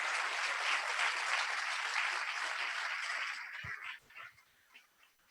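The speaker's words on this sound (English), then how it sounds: "I want one round of applause for all of our speakers and presenters today" An audience at a panel event on Jews and Muslims in America applauds its speakers, a dense wash of clapping for about three and a half seconds that then fades into a few scattered claps and faint room noise.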